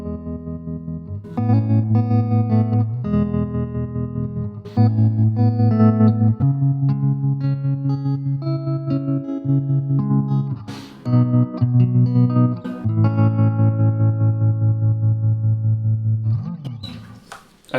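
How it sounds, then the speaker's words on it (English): Electric guitar through the tremolo effect on a Line 6 Spider 15 Classic amp, held chords and single notes ringing loud and close, with several chord changes and brief pauses between phrases. "And then finally we've got tremolo."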